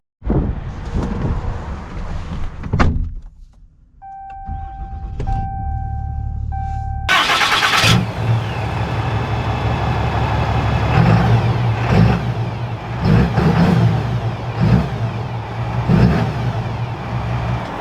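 A 2021 Ram 3500 Tradesman dually pickup cranks and starts up, then its engine idles before pulling away, rising into a steady loud drone of driving with road and wind noise inside the cab.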